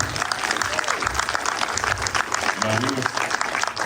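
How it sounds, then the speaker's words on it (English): A crowd claps and cheers continuously, with voices calling out over the applause and a brief voice near the end. "Everybody, give a round of applause, please."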